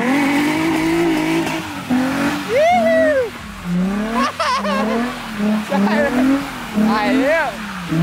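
Drift racing video game car sliding through corners, engine whining and revving with rising and falling pitch sweeps and tire squeal, loud and continuous, with people talking over it.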